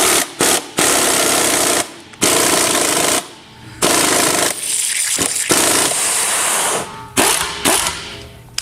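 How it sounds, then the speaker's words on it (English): A manual heavy-duty agricultural tire bead breaker strips the bead, giving loud, harsh mechanical ratcheting and clattering bursts with several short pauses between them. "Now we're going to strip the bead."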